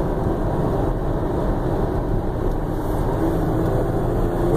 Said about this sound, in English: that dual exhaust, it sounds great.